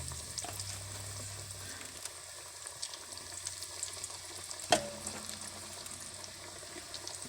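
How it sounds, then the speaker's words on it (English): Chicken fingers frying in oil in a Dutch oven, about three at a time: a quiet, even bubbling sizzle that runs throughout, with one sharp click partway through. "I'm going to put these right here in the oil"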